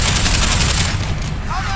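Rapid automatic gunfire in Deus Ex: Human Revolution hammers loud and close in a tight, pulsing burst that eases slightly after the first second.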